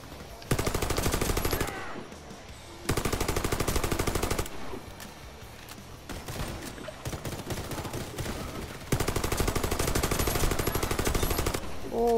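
Automatic rifle fire in the shooter Warface comes in loud, rapid sustained bursts separated by short pauses, including headshot kills, with gunfire dominating and no voices over it.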